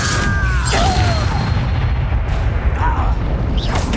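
Loud booming blasts and rumbling impacts from Confringo blasting spells in Hogwarts Legacy combat, with whooshing spell sounds and shouted voices over dense game noise.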